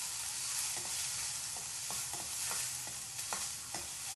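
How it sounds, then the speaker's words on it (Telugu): Cumin seeds and garlic sizzle steadily in two spoons of hot oil in a pan, a continuous frying hiss broken by occasional louder crackles and pops, alone without talk. "2 స్పూన్ల ఆయిల్ వేసి వేడయ్యాక జీలకర్ర వేయాలి. ఫ్రై చేసుకోవాలి."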